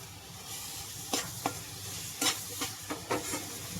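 Tomato goes into frying masala in a pan, giving a steady sizzle broken by several sharp stirring scrapes of a spoon close by.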